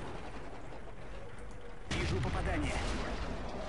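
Tank gun firing in a tank video game, a single loud broadband blast cutting in midway over steady engine rumble and background noise.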